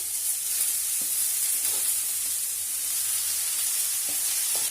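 Greens go into a pan of frying potatoes and radish, giving an even, bright sizzle with occasional faint clinks of stirring.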